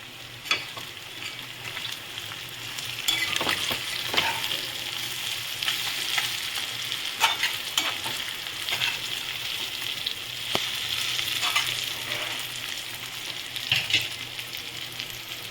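Mourala fish curry cooks in oil in a pan on a gas stove, giving a steady bright sizzle with occasional stirring clatters and small spattering pops throughout.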